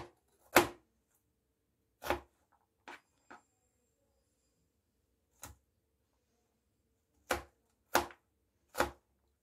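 Chicken liver is chopped with a knife on a board in a home kitchen, producing seven sharp, isolated chops at irregular intervals with quiet gaps between them. The sound is close and there is no talk.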